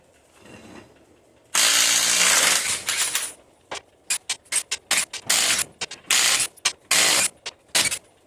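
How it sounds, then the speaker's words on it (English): A jack is worked to lift a 3rd-generation Ram 2500 truck for a brake pad and rotor job, heard as loud, close metallic ratcheting in a long burst followed by a string of short clicking strokes. "I'm going to grab a jack so we can lift this up, get this tire off the ground"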